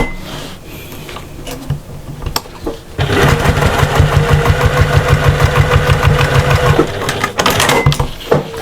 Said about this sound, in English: And then we're going to top stitch just like we did before.